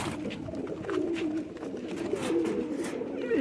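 Pigeons kept for sale coo repeatedly at close range, with soft rolling calls overlapping against a low background hum.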